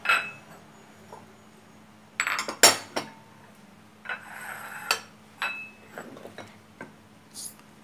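Dishes and cutlery clink while canned-fish tom yum is ladled onto plates. Sharp metallic clinks and clatters come in scattered bursts, close and fairly quiet, with brief scraping between them and no talking.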